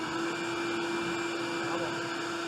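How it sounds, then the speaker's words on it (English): A vacuum cleaner runs steadily off a 2000W inverter, a close, continuous motor whine holding a constant pitch throughout with no pauses. "Vacuum."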